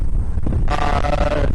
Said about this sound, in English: It's windy out here, so I apologize for the wind.